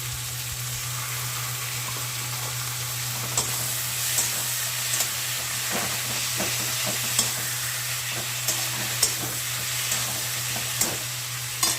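Green chili paste sautéing in a pan with dried red chili, a steady close sizzle broken by intermittent stirring scrapes and taps, with a low constant hum underneath.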